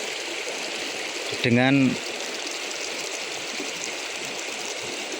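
River water rushes steadily at the confluence of two rivers, a broad, loud and constant flow, with a brief spoken word partway through.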